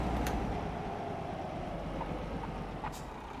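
A heavy truck's diesel engine in Euro Truck Simulator 2 drones steadily as it accelerates, a loud, continuous low rumble with brief airy hisses near the start and end.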